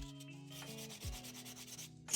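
Sandpaper rubs by hand against a shoe in quick repeated back-and-forth strokes, a close, quiet, rhythmic scraping with no voices.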